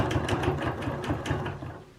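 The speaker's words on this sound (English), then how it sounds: "I kind of let my machine run when I'm in the corner of a leaf." A sewing machine runs steadily during free motion quilting, a fast even mechanical stitching rhythm with a low motor drone, close and continuous.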